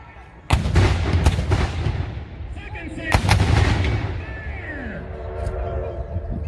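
Civil War reenactors fire two loud musket volleys on command a few seconds apart, each crackling out as a ragged burst of shots with a rolling echo. Voices can be heard around them.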